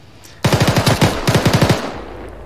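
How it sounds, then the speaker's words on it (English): Loud automatic gunfire in the Arma 3 military shooter, two rapid bursts of about eight and six shots in quick rhythm, separated by a brief pause, with no talking. "Yeah, that guy actually gets a shot on. Yeah, he actually hits me there."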